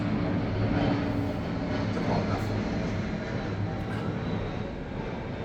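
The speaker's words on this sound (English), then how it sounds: "The reason I stopped talking, there's a plane overhead," Airplane passing overhead outdoors, a steady broad low rumble that stays loud and constant throughout, with a brief spoken remark over it.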